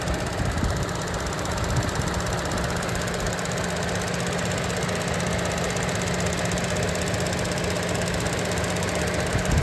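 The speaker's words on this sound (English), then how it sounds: "Good running car, good running engine." A 2015 Chevrolet Cruze LTZ's 1.4 liter turbo engine idles steadily with a low, even hum and faint rhythmic ticking, continuous and close, with no voices.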